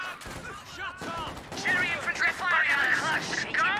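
Infantry gunfire in the Company of Heroes 2 video game crackles in quick, sharp bursts, busiest early on, while a voice talks excitedly over much of the later shooting.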